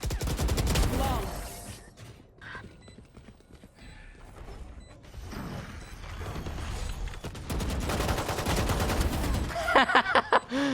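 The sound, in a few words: gunfire spraying in Valorant video game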